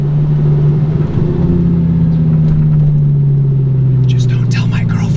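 A 1,040-horsepower Lamborghini Gallardo engine drones loudly and steadily, its pitch sliding downward as it downshifts, with a brief hissing burst near the end.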